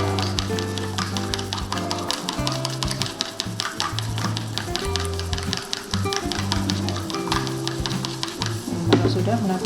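One egg is beaten with a fork or whisk in a bowl, rapid rhythmic clinking taps repeating steadily and close, while someone talks over it.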